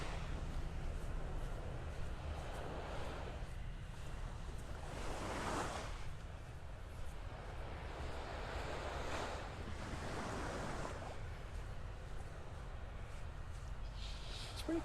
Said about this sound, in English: Just some little waves lapping up on the shore here.